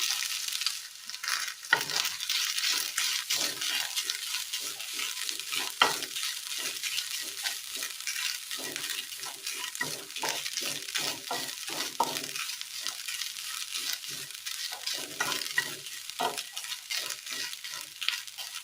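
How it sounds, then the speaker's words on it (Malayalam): Grated coconut and urad dal frying in a hot pan while being stirred, a steady bright sizzle broken by frequent scraping strokes of the spoon, close and continuous with no talking. "ഉഴുന്നൊക്കെ ഒന്ന് ചുവന്ന് വരുന്ന സമയം ഇതിലേക്ക് തിരുമ്മി വെച്ചിരിക്കുന്ന തേങ്ങ ഇട്ട് കൊടുക്കാം."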